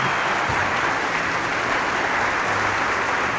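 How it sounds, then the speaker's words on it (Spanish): Dense, steady applause from a church congregation welcoming guests at a Catholic teaching session, a continuous wash of many hands clapping at fairly loud level throughout with no break. "Aplauso, aplauso."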